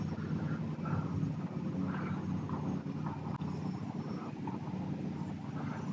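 JJRC W01 micro RC plane cruising at about half throttle in light wind, a steady propeller drone with a low engine rumble holding even and continuous throughout.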